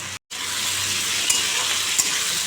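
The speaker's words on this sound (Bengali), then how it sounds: "এখন এই ক্যাপসিকাম ভাজবি" Capsicum sizzles steadily in a hot pan, a dense crackling hiss that cuts out for a moment near the start, with a couple of faint clinks.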